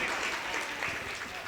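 Applause from the audience at a Hindi kavi sammelan poetry recital, a brief, dense burst of clapping heard close and loud throughout.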